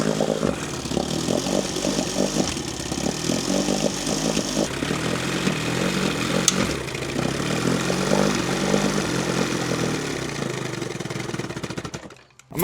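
An outboard boat motor awaiting new spark plugs runs loudly and continuously with an uneven, rattling mechanical drone and rapid firing pulses, then cuts out abruptly near the end.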